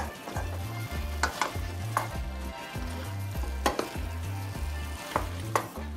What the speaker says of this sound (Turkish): Ve karıştıracağım sadece şimdi